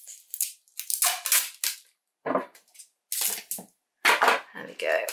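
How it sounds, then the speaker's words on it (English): Packing tape is stretched and pressed across a shipping parcel in a series of sharp, ripping screeches and crinkly bursts. The tape sounds come close and loud, stopping and starting in quick, irregular pulls. "Got to tape across it as well."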